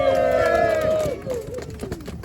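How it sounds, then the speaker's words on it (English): An evening crowd at an outdoor candlelight march and rally cheers, with raised whooping voices rising and falling over a general hubbub. "Let's give them a round of applause for everybody here this evening."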